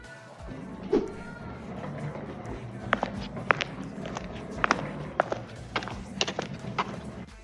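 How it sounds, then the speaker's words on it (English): Footsteps descend stairs with scattered thumps and clacks of a suitcase bumping and rolling along, moderately quiet in a room with low background hum. "There he is with his suitcase coming down the stairs, and also got the suitcase rolling sound effects"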